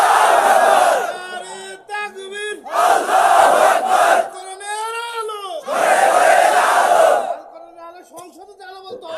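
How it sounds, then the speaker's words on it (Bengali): A large crowd at an Islamic sermon in Bangladesh shouts the takbir in loud, unified roars, three big swells of massed voices with a lone preacher's voice calling between them. "জোরে তাকবীর দেন একটা"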